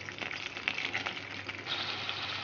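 Chili and curry leaves frying in hot oil in a pan, a soft steady sizzle with faint crackles and pops, fairly quiet and continuous.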